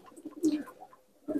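Newly arrived Malwai pigeons coo softly close by, a few short throaty coos with brief pauses, quiet in an otherwise still space.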